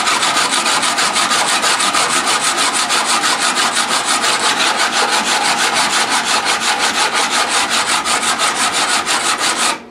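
Continuous rapid back-and-forth scrubbing of a shark-shaped inlay on a guitar fretboard, flattening it down to the board's radius, loud and close, an even rasping rhythm of strokes for nearly ten seconds with no voices.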